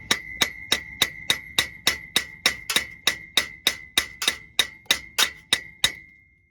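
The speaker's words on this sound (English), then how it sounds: "I'm pulling on the hub while I smack on it." A hammer smacks the front axle hub of a 2006 Ford F-250 about fifteen times in a steady, fairly quick rhythm, each blow ringing with a sharp metallic tone, close and alone, before the ring fades out.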